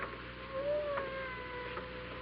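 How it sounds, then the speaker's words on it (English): A cat gives a single faint meow with a rising and falling pitch, set against a soft background hiss. "I hear a cat."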